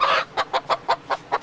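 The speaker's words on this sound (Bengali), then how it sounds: "আপনি আমাকে একটা মুরগি একটু দেখায়" A chicken clucks close by in six short, evenly spaced bursts, one longer call first, then quick repeated clucks with no talking.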